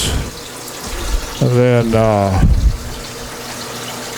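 Water runs from a hose or tap while a home fish tank is refilled, a steady wash under a short spoken phrase, then a brief louder gush that fades back.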